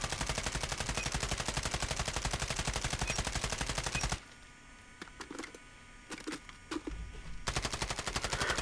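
Sustained automatic fire from the Holger gun in the mobile shooter COD Mobile, a rapid, loud rhythmic burst lasting about four seconds, then a pause with faint game noises, then firing resumes.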